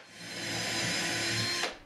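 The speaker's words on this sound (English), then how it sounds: "when I drill the 2 additional pilot holes" A power drill bores pilot holes into a wall for a corner TV mount. A close, steady whine holds for about a second and a half, then stops.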